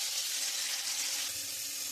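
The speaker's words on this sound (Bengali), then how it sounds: "আমি কড়াইয়ের মধ্যে তেল দিয়ে দিয়েছি, আর বোয়াল মাছ তো ফাটে, খুব সাবধানে ভাজতে হবে" Boal fish frying in oil in a wok gives a steady, close, loud sizzle with crackling texture throughout, no voices over it.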